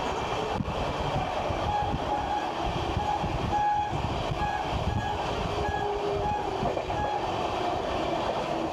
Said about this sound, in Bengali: দেখো ট্রেন চলছে প্রায় ভালোই জোরে চলছে